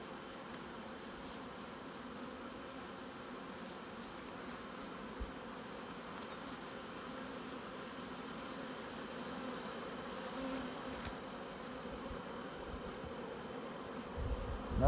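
Italian honey bees swarm around an open hive on a bee farm, making a continuous faint buzzing hum that stays soft and even throughout with no talk.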